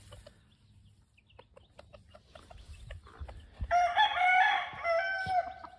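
Chickens on a farm: a hen with chicks clucks softly amid scattered calls, then a rooster crows loudly and at length from fairly close by.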